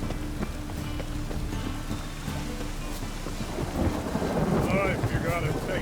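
Rain and rolling thunder in the video game The Witcher 3, a steady wash of rainfall with low rumbling, and a voice speaking briefly near the end.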